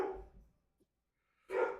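A person imitates a dog's bark with their voice: one loud gruff woof, a pause of near silence, then another close, loud woof.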